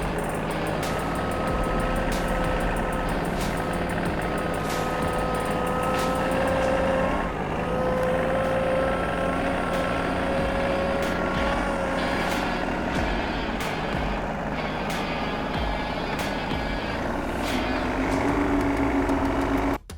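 A Bad Boy 1025 tractor in low four-wheel drive backs slowly off a mower deck on concrete, its engine droning steadily close by with faint ticking and whining tones and a brief tonal shift near the end.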